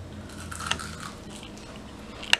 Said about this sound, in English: You can just hear the crunch.